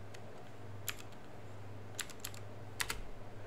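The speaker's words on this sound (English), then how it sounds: "When I type in Ubuntu," Keys tapped on a computer keyboard while typing a command on Windows 10, heard as a few sparse, quiet clicks and a short burst near the end over a low steady hum.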